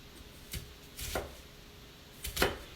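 A knife chops food on a cutting board for cowboy salad, three separate crisp knocks spaced apart, close and fairly quiet with no talk.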